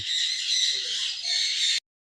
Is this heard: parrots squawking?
yes